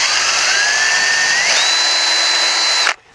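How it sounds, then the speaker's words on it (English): A power drill runs steadily at high speed while drilling a hole for a homemade wheel cover. The whine rises in pitch partway through, then cuts off abruptly near the end, loud and close with no talking. "and I'm going to drill a hole."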